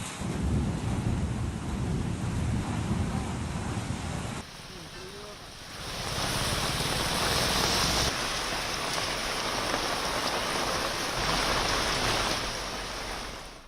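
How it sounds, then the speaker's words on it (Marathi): Heavy unseasonal rain driven by stormy wind in Maharashtra roars as dense, continuous broadband noise. A brief lull midway is followed by an even stronger downpour with gusting wind. "वादळी वाऱ्यासह जोरदार पाऊस कोसळतोय"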